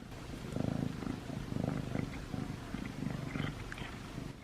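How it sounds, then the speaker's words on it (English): Oliver, a pet cat, purrs in soft, rhythmic low rumbles that swell and fade in steady cycles, close by and fairly quiet with no talking. "He starts purring."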